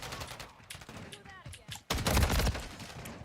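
Call of Duty Modern Warfare 3 gunfire comes first as scattered shots and then as a loud, rapid automatic burst that runs to the end, with game sounds and chatter under it.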